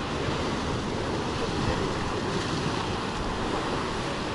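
Sea waves break and wash steadily onto the shore at Alushta, Crimea, a continuous broadband roar of surf with some wind, close and fairly loud, with no voices.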